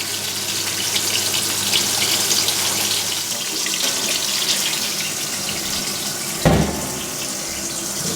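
Water rushing steadily into a 1989 Maytag A512 Fabric-Matic washer filling for its rinse, a continuous close gush with a brief louder knock near the end.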